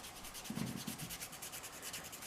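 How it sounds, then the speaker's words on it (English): Fingernails are roughed up with a nail buffer before applying matte French press-on nails: quiet, close, quick rhythmic rubbing strokes repeating steadily. "just rough up your nails a little bit, just so it has some type of grip"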